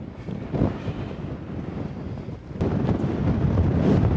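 Steady outdoor wind on the Continental Divide Trail buffeting the microphone, rumbling low and loud, with a stronger gust surging in halfway through and staying heavy.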